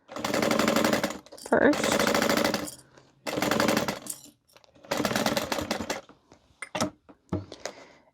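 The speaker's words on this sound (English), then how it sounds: "I like to start here on this raw edge and stitch all the way down this" A sewing machine runs in rapid bursts, topstitching down the raw edge of a tote bag through several bulky fabric layers, close and loud with stops between runs and brief speech.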